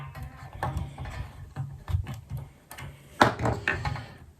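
Gibson tool loosening the spring screws in the back of a Squier Strat guitar, heard as close, irregular metallic clicks, creaks and scraping knocks, some sharper than others, with no speech.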